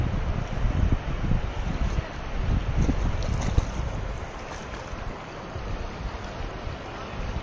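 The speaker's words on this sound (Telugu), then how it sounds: "నాలా చిన్నగా అయితే అవి చూడండి వాటర్ ఎట్లా పోతుంది." Water rushing through a narrow urban drain (nala) beside buildings, a steady loud broadband wash of flowing water with rough low rumble throughout.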